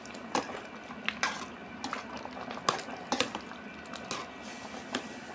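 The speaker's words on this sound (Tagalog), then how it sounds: "Haluin pa ng konti." A cooking pot of water being stirred, with soft wet squishes, scrapes and light clinks of the utensil against the pot in irregular strokes, close and moderately quiet.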